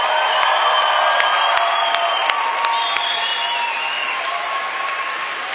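Sustained applause from a large crowd fills the room, steady and fairly loud, with a few scattered cheers mixed in.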